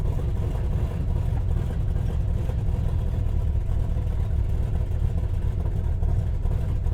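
Loud Plymouth Road Runner with an overdrive transmission swap driving along, its engine a steady deep rumble heard from inside the uninsulated cabin, continuous and unbroken for several seconds.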